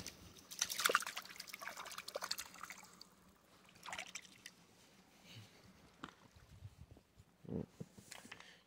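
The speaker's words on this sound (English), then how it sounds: "Wash it off with the water," Water splashes and trickles over a dug-up chunk of lead outdoors, irregular faint pours and drips in short bursts with quiet gaps, a few soft thuds in between.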